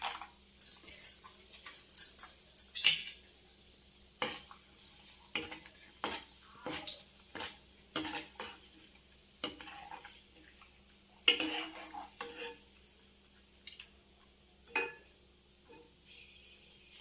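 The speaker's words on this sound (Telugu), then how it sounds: "జీడిపప్పు వేయించేసాను" Cashew nuts frying in a pan for rava laddu and atukulu mixture, a steady close sizzle broken by repeated scraping stirs and occasional light clinks of utensil on pan, with no talk.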